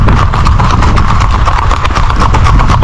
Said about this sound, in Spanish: Lo que queremos es la música de esas cuatro patas, mira, en esa armonía, ese cambio, ¿verdad? En ese traslado del caballo